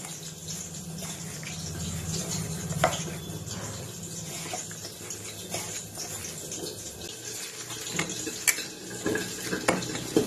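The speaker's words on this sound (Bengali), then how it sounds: "এর মধ্যে খুব সামান্য পরিমাণ জল দিয়ে এটাকে মাখতে হবে" Drumstick flowers are squished and kneaded by hand into a thick rice flour batter with a splash of water, giving soft, wet squelching and sticky slapping sounds, with occasional light clicks of a bowl, close up and steady.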